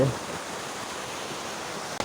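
A steady, even rush of water from a small waterfall on the Netravathi Peak trail in monsoon fills the whole stretch, a constant hiss-like roar with no pauses, close by.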